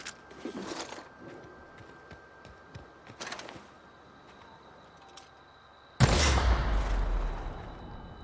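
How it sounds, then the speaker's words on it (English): A burst of gunfire and an explosion in the video game The Outer Worlds on PS4, with scattered crackling shots early on, then a sudden loud, rumbling blast near the end that lingers and fades. "I'm dazed by the explosion."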